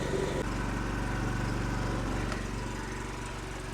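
A faulty petrol generator running close by, a steady loud engine drone with a pulsing low rumble and an uneven tone that dips slightly around the middle, no talking.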